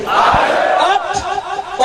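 At a religious gathering, a large crowd shouts the slogan 'Nara-e-Haidari' in unison. The loud, massed voices rise and fall in short bursts, and the sound fills the whole moment.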